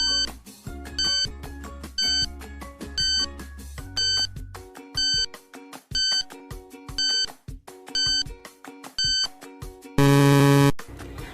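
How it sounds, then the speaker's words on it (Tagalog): Quiz countdown timer ticks off in regular electronic beeps about once a second over a low musical tone, ending in a sustained loud alarm buzz near the end, with no talking. "Your timer starts now."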